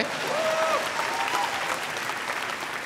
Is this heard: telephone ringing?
no